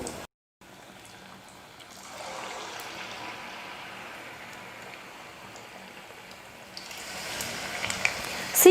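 Idli or dosa batter snacks deep frying in hot oil give a steady, soft sizzling hiss that swells slightly toward the end, with no talk.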